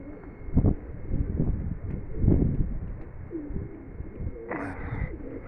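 Low pigeon coos repeat close by against a muffled background, with a brief higher chirp near the end.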